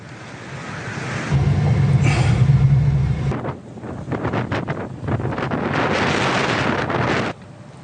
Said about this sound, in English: Hurricane Norma slammed into Mexico's northwestern coast Saturday afternoon as a Category 1 storm, bringing dangerous rain and flooding